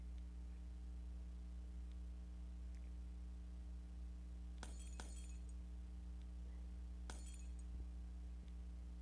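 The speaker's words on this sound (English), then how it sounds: "That sounds like someone's shooting a bunch of glass." Glass shattering under gunfire in a first-person shooter video game, two sharp bursts of breaking and clinking glass over a steady electrical hum, heard alone without speech.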